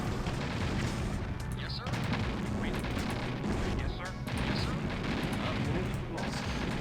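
Artillery fire in the Command & Conquer: Red Alert strategy game, with Soviet forces fighting naval cruisers: a continuous rumble of booms and blasts, loud and close, with a few sharper gunshot-like bursts mixed in.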